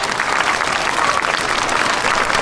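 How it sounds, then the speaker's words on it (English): Loud, dense applause from a school assembly crowd cheering their teachers, a continuous roar of clapping with no pause. "Can we give a big round of applause for all the teachers?"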